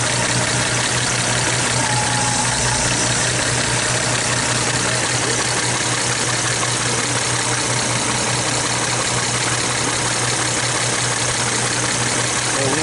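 A 2002 Audi A4 with a mass airflow sensor problem idles steadily and close, a dense continuous engine drone with a low hum and no changes in revs.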